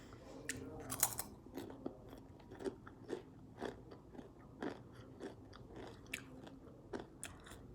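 Someone chews a crunchy Mexican potato chip, with irregular close crunches and bites spread over several seconds, fairly faint with no talking.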